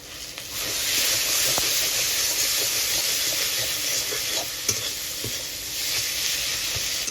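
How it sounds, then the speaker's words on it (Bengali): Roasted ground cumin, coriander and garam masala stirred while frying for a prawn and pointed gourd dish, a dense steady sizzle with a few soft scrapes of the spoon. "জিরের গুঁড়ো ধনির গুঁড়ো আর গরম মশলা একসঙ্গে ভেজে গুঁড়ো করে নিয়ে আসে এবারে আমি এইটাকে দিয়ে দেবো"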